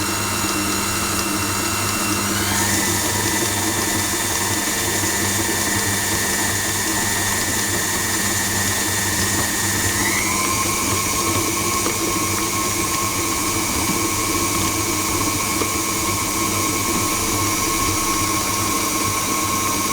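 Butter and flour for apple turnovers being mixed by an electric mixer, a loud, steady motor whine that shifts pitch upward twice as the speed changes, running continuously with no talking.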